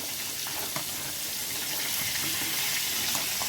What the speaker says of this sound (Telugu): ఇక్కడైతే మసాలా ఉడుకుతుంది